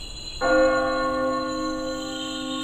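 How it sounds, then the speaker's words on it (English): A single bell is struck once and tolls, its rich, humming ring holding steady and slowly decaying, heard alone and at moderate loudness. "A bell tolls."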